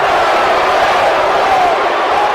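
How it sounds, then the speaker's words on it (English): A packed wrestling arena crowd in Brooklyn reacting at a live event, a dense, steady roar of voices filling the hall with no breaks. "And this crowd is letting their feelings known here tonight"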